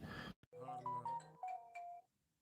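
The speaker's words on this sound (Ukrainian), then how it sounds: "хтось телефонував на вайбер" A Viber incoming-call ringtone sounds on a phone: a bright melodic chime of stepped tones repeating twice, clear and fairly loud after a brief gap, with no talk over it.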